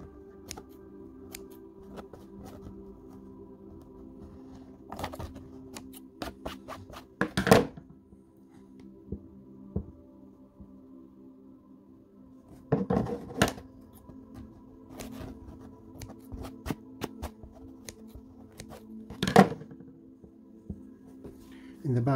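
Scissors snip through machine-embroidered fabric made on a Baby Lock Espree EM1 embroidery machine, giving a few sharp, close cuts at irregular intervals against a quiet background with light handling noise.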